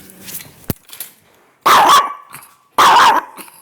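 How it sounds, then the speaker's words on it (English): A dog barks twice in loud, separate bursts about a second apart, with a short sharp knock or bang and low household noise just before, indoors near a ringing doorbell. "I gotta get the dog."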